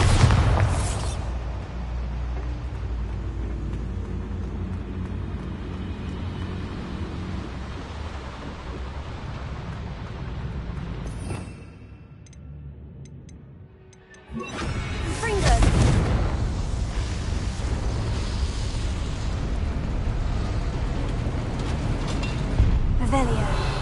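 Repeated Confringo and Bombarda spell blasts in a Harry Potter video game, loud rumbling booms with crashing debris that drop away briefly to a quieter lull mid-way before another heavy blast and sustained roar, with game voices underneath.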